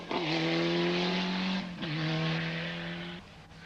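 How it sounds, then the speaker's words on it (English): Cosworth 4x4 rally cars race in a 1991 rally, their engines roaring close and loud with rising and falling revs and a gear change between two sustained pulls. "Saelens and Castellan in the Cosworth 4x4s"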